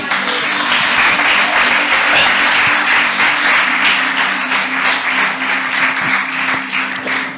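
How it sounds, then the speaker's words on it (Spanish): A church congregation applauds during a sermon on faith and healing, dense, loud clapping sustained for several seconds before tapering at the end. "dale ese aplauso al Señor"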